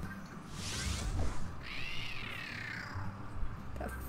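A cat meows in The Emperor's New Groove on PS1, a long rising and falling yowl over a low game background, with a brief higher squeal just before it and a short sound near the end.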